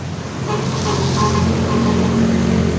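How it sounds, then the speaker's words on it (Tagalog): Road traffic passes close by on a busy street, a continuous broadband rumble and whoosh of cars that swells slightly after the start and holds steady to the end. "Nagugulat ka pa rin sa mga tunog ng sasakyan?"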